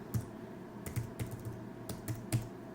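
A password is typed on a computer keyboard, with about eight soft, close key clicks in quick, uneven bursts against a quiet room.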